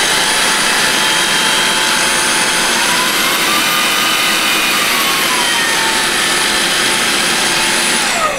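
Vacuum cleaner in automatic suction mode whirring loudly and steadily with a high whine, the pitch rising and later falling as the suction power shifts, no voices.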